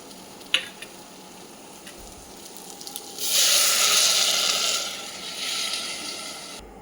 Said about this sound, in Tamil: தண்ணி ஊற்றி நல்லா கிண்டி விட்டுட்டு